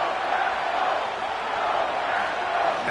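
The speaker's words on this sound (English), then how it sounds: "This crowd into it now as we get to 3rd down." Football stadium crowd at an NFL game, Texans at Packers, a dense continuous roar of cheering fans building on third down, steady and enveloping with no distinct voices.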